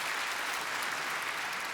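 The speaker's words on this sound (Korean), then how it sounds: "우리 한 번 더 격려의 박수 하도록" Encouraging applause fills a Sunday church service, a dense, sustained patter of many hands clapping at an even level throughout the brief moment, with no speech over it.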